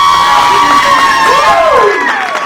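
A cheering squad at a charity run/walk for kidney health shouts and whoops loudly together in one short burst, with high voices rising and falling close by.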